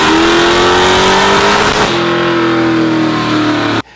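A tuned Dodge Charger from Fast & Furious revs loudly and close up, its engine note climbing and holding at a high whine before cutting off abruptly near the end.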